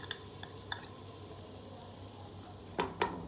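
Beef sizzles with ginger paste in a frying pan, a steady soft hiss broken by several sharp clinks of a spoon stirring against the pan, the last two louder near the end.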